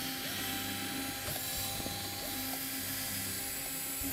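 A power driver spins out 1/4-inch hex head screws from the back panel of an Amana refrigerator, whining in short repeated bursts over a steady background hum.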